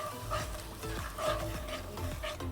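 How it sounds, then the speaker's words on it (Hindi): Crushed cumin and coriander sizzle in a pan of hot oil while being stirred, a close scraping and frying texture in uneven strokes, with no talk. "give it a nice stir"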